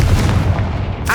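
A Confringo fire spell in Hogwarts Legacy going off as a loud, booming blast that rumbles through a brief moment before cutting off.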